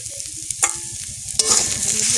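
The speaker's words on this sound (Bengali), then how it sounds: "ভালোভাবে ভেজে নেব" Food fries in a pan with a steady sizzle, broken by a couple of sharp scraping or stirring bursts, the hiss swelling louder toward the end.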